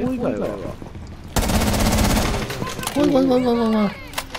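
Warning shots in Rainbow Six Siege, a dense burst of rapid automatic gunfire lasting over a second, with people talking before and after it.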